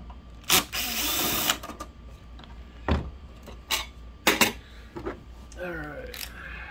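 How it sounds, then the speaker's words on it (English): Screwdriver work on a Sony VPL-HW45ES SXRD video projector during mainboard replacement, with a few short metallic clicks and rattles of screws and parts, a burst of louder handling noise, and brief talk near the end. "Different screwdriver."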